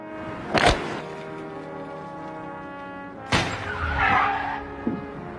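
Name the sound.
car skidding to a stop, glass breaking, film scene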